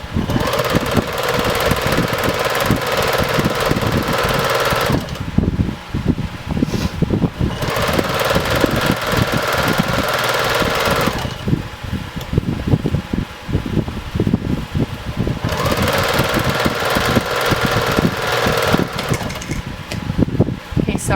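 Sewing machine stitching around the edges of a homemade laptop bag, a steady buzzing whir that runs in long stretches broken by short pauses, with a voice talking over parts of it.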